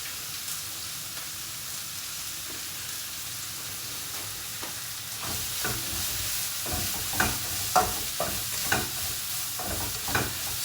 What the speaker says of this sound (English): So this is, as you probably saw in the recipe, a Sichuan stir fry.